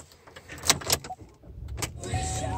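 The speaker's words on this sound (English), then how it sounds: "We jump into this vehicle, turn it on for you guys." A 2016 Chevrolet Cruze LT1 with a key ignition is started, with a few clicks and clunks followed by the engine catching and settling into a low, steady idle heard close from inside the car.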